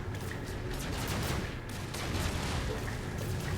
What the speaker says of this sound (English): That's really annoying with all that shooting.